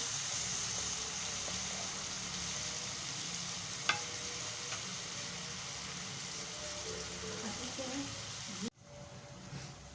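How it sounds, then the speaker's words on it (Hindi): Spices frying in hot oil for a dal tempering sizzle steadily and fairly loud, with a small click partway through, then cut off sharply near the end, leaving a quieter hiss. "अब ये भी इसमें शामिल करेंगे हम अपने बघार के अंदर। फ्राई करेंगे।"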